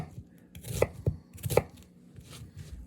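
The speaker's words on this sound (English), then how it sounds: "you're cutting along the grain of the onion here" Knife chopping an onion along the grain on a cutting board, a few crisp close thuds and slicing knocks spaced irregularly over a couple of seconds, with no talking.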